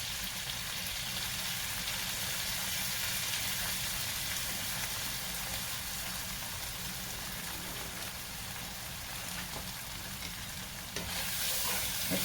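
Flour and shrimp sizzle steadily in a pan for shrimp and crab étouffée, a continuous soft crackling hiss with faint stirring scrapes and no voices.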